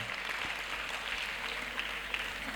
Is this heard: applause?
yes